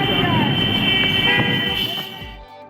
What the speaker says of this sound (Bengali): আমরা হাওড়া থেকে গোঘাটের ট্রেন ধরে নিয়েছি 1:05-এর।